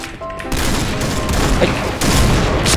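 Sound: gunfire in a shooting video game

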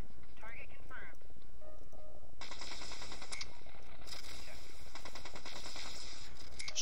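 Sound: gunfire in video game Mech Commander 2

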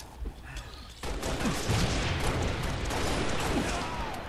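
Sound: gunshots in a team doubles video game match

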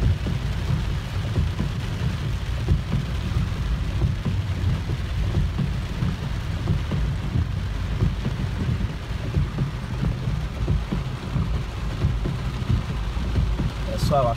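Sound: rain and thunderstorm in the sertão

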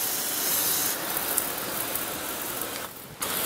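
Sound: spraying water to dampen pool walls

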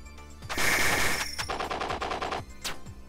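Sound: sentry gun firing in video game Rabi-Ribi

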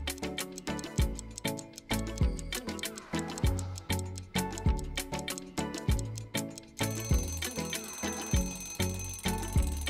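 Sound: ticking countdown timer effect for a 10-second puzzle

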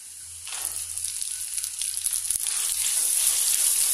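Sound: small onions sizzling as they fry in a pan

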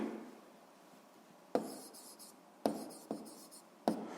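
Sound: writing on paper

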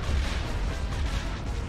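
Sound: ion cannons firing in Star Wars video game

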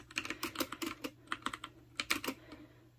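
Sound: typing on a Freewrite smart typewriter

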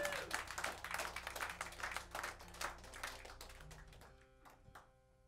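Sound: audience clapping for the guitarist

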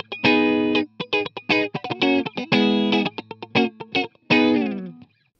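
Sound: clean electric guitar with compressor pedal

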